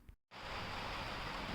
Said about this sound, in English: There's nothing better than the sound of rain on a metal roof.